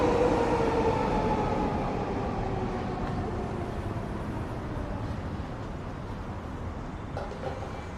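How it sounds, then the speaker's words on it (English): A Vancouver SkyTrain runs along its elevated city tracks, a steady rolling rumble with a faint high whine that eases slightly as it moves off, with no talking. "there's one of the very SkyTrains that we just rode in onto the station. Right there, headed along the SkyTrain tracks."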